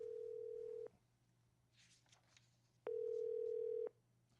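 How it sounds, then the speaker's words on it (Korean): Two long steady telephone tones over a radio phone line, separated by a quiet gap, sounding plain and unmusical as a call is placed during a live Korean morning economics radio show. "조금 전에 그 전화 벨에 비해서는 조금 재미가 없는 벨이네요."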